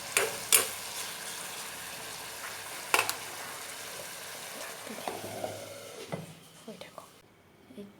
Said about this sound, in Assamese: এয়া মই মাছ বনাই আছোঁ। এয়া মাছ ভাজি থৈছোঁ